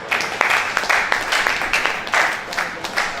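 Applause from an audience at a university event marking the International Day of Persons with Disabilities, a lively burst of clapping with uneven peaks that fills the short span.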